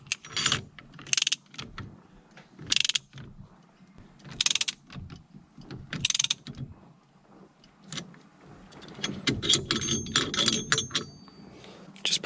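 A steering wheel puller is screwed in on a Ford XW dash, giving repeated bursts of ratcheting, clicking metal turns separated by short pauses, close and fairly quiet, with denser clicks toward the end.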